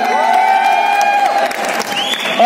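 An audience at a bodybuilding association event in Neemuch applauds loudly and continuously, with cheering and whoops riding over the dense clapping.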